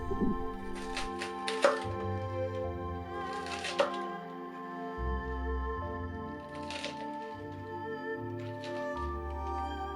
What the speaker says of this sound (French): on commence la découpe avec le pak choi, dont nous allons retirer le pied et détailler en tronçons de 3 cm